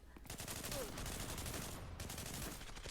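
Fully upgraded AK-47 firing in the mobile shooter Zula Mobile, a dense rapid burst of shots running almost the whole time, loud and close, with a brief gap near the middle and faint talk beneath.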